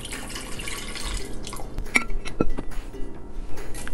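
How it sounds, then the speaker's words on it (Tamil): Water poured from a vessel into a pressure cooker holding washed taro roots with salt, giving a close, brief splashing and dripping with a few clinks of metal or glass, no talk. "தண்ணி ஊற்றிக்கலாம்."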